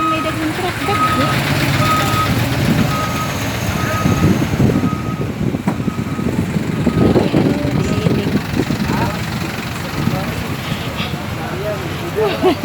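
Trucks at the Tubigon public market in Bohol, Philippines, sound a steady series of reversing beeps over engine rumble and busy market noise, with people talking throughout.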